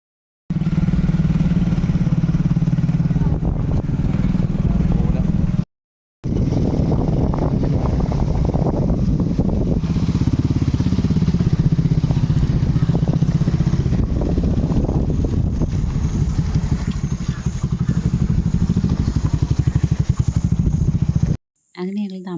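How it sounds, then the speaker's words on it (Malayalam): A motorcycle carrying four riders runs steadily on a road toward a nearby temple, its engine drone loud and continuous under heavy wind buffeting, with a brief cut partway through and no clear talk. "4 പേരും കൂടി ബൈക്കിലാണ് പോകുന്നത്"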